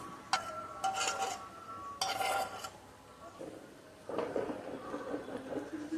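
Cashews and raisins being stirred into sweet pongal in a pot, with a few soft clinks and scrapes of the spoon against the metal and a faint sizzle, fairly quiet.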